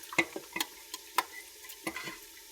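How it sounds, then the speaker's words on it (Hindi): Meat goes into hot ground garam masala in a pressure cooker, giving a handful of separate wet thumps and stirring clatters over a faint sizzle, close and fairly loud, with no talking. "अब हम डाल देते हैं इसमें गोश्त।"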